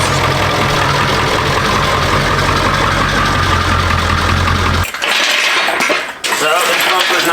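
A 1995 Ford 7.3 Powerstroke diesel V8 in an Econoline van idles loudly with a steady low rumble and clatter, then cuts out abruptly, leaving brief clicks and faint noise.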